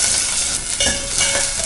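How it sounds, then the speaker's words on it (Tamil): Onions frying in about a tablespoon of oil in a pan give a loud, steady sizzle with a few brief stirring scrapes, close and without talk. "வெங்காயம் போட்டுக்கலாம்."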